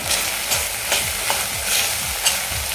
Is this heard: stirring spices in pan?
yes